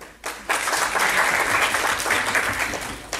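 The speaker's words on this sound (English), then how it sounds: "Let's clap for him, yeah?" An audience at a motivational talk breaks into sustained, dense clapping for a few seconds, fairly loud and even.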